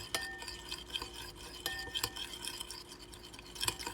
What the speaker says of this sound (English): Just gonna take you like a little spoon. And just mix all them ingredients together.